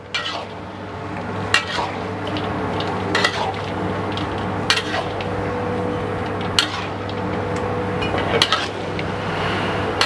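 A large pan of fish is stirred through sweet and sour sauce, giving steady clinks and scrapes of a utensil against metal with occasional sharper knocks over a constant low hum and faint sizzle.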